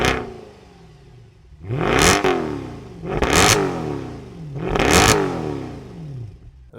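A rear-wheel-drive Mercedes C63 AMG with a dual-clutch gearbox is revved three times in quick succession. Each rev is a loud rising roar that falls back to a burbling idle, close by and with no talking.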